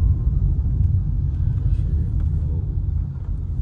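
A car cruises along a road with a continuous low rumble of engine and road noise. It stays fairly loud and steady, with no talk.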